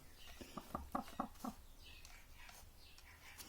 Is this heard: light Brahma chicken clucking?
yes